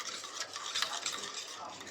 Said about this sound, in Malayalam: ഇത് നല്ലപോലെ നമുക്ക് മിക്സ് ചെയ്ത് വെക്കാം